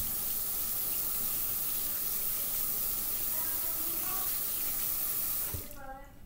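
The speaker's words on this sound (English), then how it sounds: "you can always just take your brush and rinse it off" Water runs steadily from a tap while a paint brush is rinsed, a continuous splashing wash that stops abruptly near the end.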